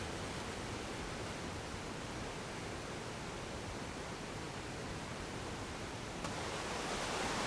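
Steady rushing roar of a small waterfall in the Arctic wilderness, continuous broadband water noise with no breaks, fairly loud and alone throughout.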